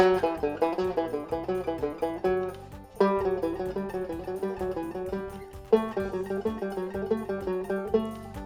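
A single guitar picks a steady stream of notes on one string, a three-note pattern climbing and descending, repeating while shifting position up and back down the neck every few seconds.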